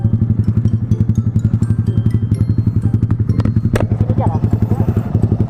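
A motorcycle with a Proliner header and silencer exhaust idles close by with a fast, even, loud thumping pulse and slight clatter, steady throughout.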